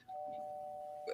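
A doorbell chimes with a steady sustained tone held for about a second, heard in the background behind an indoor conversation setting, fairly faint.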